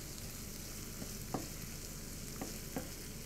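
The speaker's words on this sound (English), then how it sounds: "I'm just going to add them straight to the pan to soak up all those really nice chorizo juices" Cannellini beans sizzle and fry steadily in a pan with chorizo and its juices, a constant close crackle broken by a few soft stirring scrapes, with no voices.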